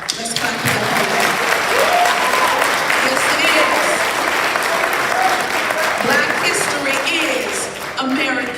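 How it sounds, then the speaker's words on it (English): A high school crowd applauds during a Black History assembly, sustained loud clapping filling the room for several seconds, with scattered cheers and voices mixed in before it tapers slightly at the end. "Let's clap it up for that."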